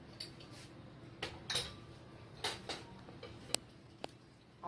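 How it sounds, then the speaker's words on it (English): A spoon gives a pot of Mexican beef vegetable soup a light stir, making faint scattered clinks and taps against the pot over a quiet background. "I'll give it this light stir, like that."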